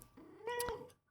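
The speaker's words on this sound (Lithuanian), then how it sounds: "Koks kačiukas." A single short kitten meow, close and clear, with a rising then falling tone lasting about a second.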